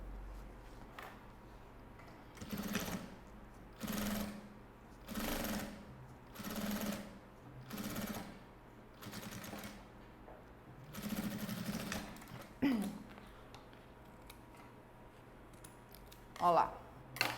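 Domestic sewing machine stitching a fabric seam on a hygiene kit, in repeated short bursts of fast whirring with pauses between, close up, followed by handling noises and a brief voice.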